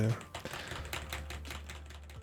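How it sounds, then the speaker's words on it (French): Keys clack on a computer keyboard in quick, irregular taps, faint and close to a microphone with a gate applying attenuation, and a low steady hum underneath. "Juste si tu tapes au clavier"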